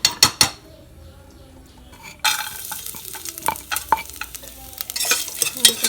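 Coconut pieces fry in a mix of ghee and coconut oil, crackling and sizzling under frequent clinks and scrapes of a metal spoon against the pot, after a few sharp knocks and a brief quieter pause at the start.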